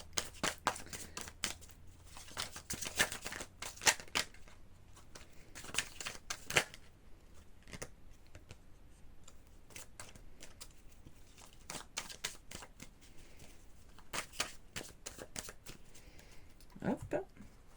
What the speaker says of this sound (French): Pendant ce temps, moi, je vais brasser un autre jeu